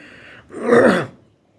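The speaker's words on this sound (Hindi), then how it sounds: "मुझे थोड़ा सा खांसी वासी है" A single throat clear with a rough, coughing edge, close and fairly loud, followed by quiet.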